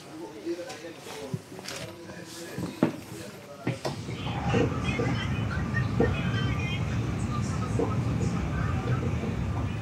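Train station interior in Sweden, a steady rumble of trains and crowd ambience building after a few seconds, with scattered footsteps and clatter near the start and indistinct voices in the background.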